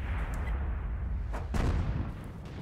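Crusader SP self-propelled artillery firing in World of Tanks, a single muffled boom about a second and a half in, standing out from a steady loud rumble of game audio.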